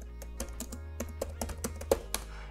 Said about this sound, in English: you can simply type apt install Uniscan.